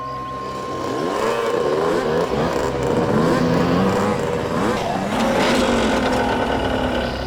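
Motorcycles ridden by a group of bikers arrive with a continuous, loud engine drone that rises and falls in pitch as they rev and approach.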